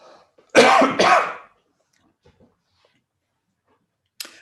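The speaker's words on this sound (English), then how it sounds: "I'm going to have to cough" Two sharp, forceful coughs in quick succession, close and loud, followed by near silence with a few faint rustles and a brief click at the end.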